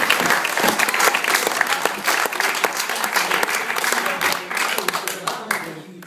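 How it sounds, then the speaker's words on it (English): A party crowd claps and applauds at a fundraising thank-you gathering, with steady dense clapping throughout that rises and falls slightly. "So a round of applause to these guys."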